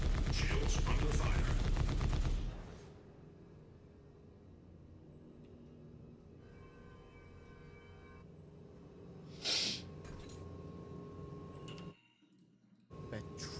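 In Star Citizen 3.23.1A, weapons fire pounds a ship's shields in a loud, rapid burst lasting about two seconds, then gives way to a quiet ship hum with faint tones and one brief swell.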